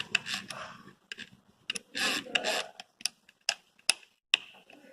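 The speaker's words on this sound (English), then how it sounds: "we have to tighten this key, and we have to ensure that it's perfectly tight" Drill chuck being tightened with a chuck key, checked from all sides: a close series of sharp metallic ticks and ratcheting clicks, some in quick bursts with short gaps, loud and near with no talk.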